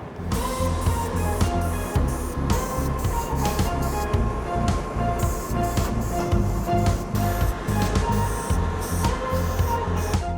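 A spray gun hisses and sputters continuously up close, applying textured truck bed liner coating outdoors in a loud, crackly, uneven stream with short bursts.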